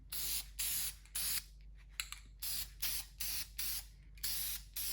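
Deft semi-gloss finish is sprayed from a can onto a carved gadwall drake decoy in short repeated hissing bursts, roughly a dozen quick close sprays with brief gaps between them.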